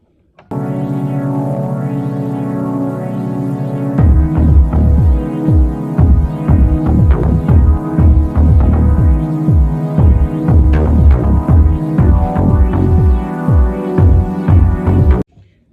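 A sewing machine stitches a square on a bandanna baby bib: first a steady motor hum, then a fast, loud rhythmic throbbing of the needle running continuously until it stops at the end.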